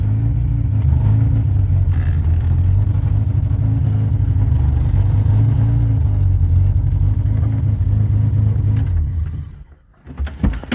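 A GAZ-24 car engine idling and pulling away, a steady low rumble that holds for several seconds before fading off toward the end.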